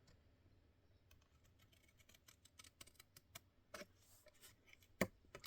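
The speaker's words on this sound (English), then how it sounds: "We're going to cut off these top 2 corners here." Quiet, close snips of scissors cut the corners off cardstock, with a scatter of small clicks and a few crisper cuts near the end.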